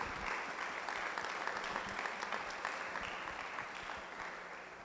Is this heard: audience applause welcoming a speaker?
yes